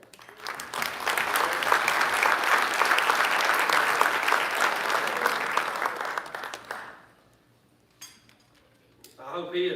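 An audience at an awards ceremony for heroic letter carriers breaks into loud sustained applause that fades out toward the end, followed by near quiet, a brief clatter and a rising swell of clapping again.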